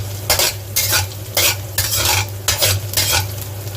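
Garlic and shallots stir-fried in hot oil for a Japanese-style shrimp and vegetable dish, with loud rhythmic scraping strokes of a spatula over a steady sizzle, close and alone with no voices.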